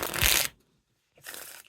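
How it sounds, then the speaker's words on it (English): Thick ED playing cards being riffle and bridge shuffled, a loud close burst of fluttering card slaps, a pause of silence, then a second shuffle burst. "you got some pretty loud riffle shuffles and bridge shuffles because the cards are thicker"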